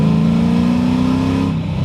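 Nissan 240SX S14 engine pulling in third gear, a loud, close, steady rising engine note with strong harmonics that eases off near the end.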